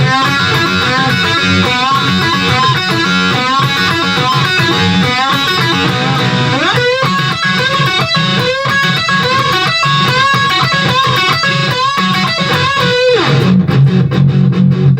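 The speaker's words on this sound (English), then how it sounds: "teaching you the intro lead guitar and the rhythm parts" Distorted electric guitar plays the intro lead and rhythm of a song, a driving riff shifting from chugging rhythm to a brighter melodic line, loud and continuous, no voices.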